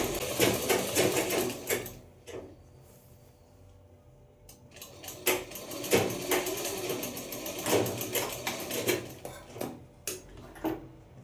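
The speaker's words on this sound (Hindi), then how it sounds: "इसको हम पहले यूं करके एक सिलाई लगा लेते हैं" A sewing machine stitches a pajama seam in short, rapid bursts of clattering needle action separated by brief pauses, close and clear with no talking.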